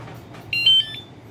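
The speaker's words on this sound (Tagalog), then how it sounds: "pag narinig nyo yung beep na isa, pagkatapos ng lock nyo, ibig sabihin naka-engage" A scooter's security alarm gives a short electronic chirp after locking, heard as a brief high tone near and fairly clear over a quiet background, with no talking.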